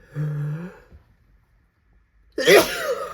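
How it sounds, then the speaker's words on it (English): A short vocal sound, then a pause of near silence, then one loud, sharp sneeze up close. "every day I get sneeze."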